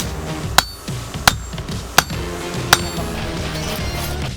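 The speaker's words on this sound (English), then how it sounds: "in the forge, where intense heat and hammering flatten and refine the steel" Hot steel blade hammered at a forge, four sharp ringing strikes spaced about three-quarters of a second apart, close and loud over a steady background hum.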